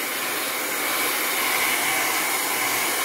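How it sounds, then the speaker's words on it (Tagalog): A heat gun or blower runs steadily to dry distress crayon art in a Bible journal, giving a loud, continuous airy hiss with no pauses and no voices. "pwede nyo gamitan ng heat gun or blower para lang mas madali siyang matuyo"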